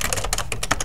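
Quick, close keystrokes on a computer keyboard typing text into a text box, a brisk burst of crisp clicks.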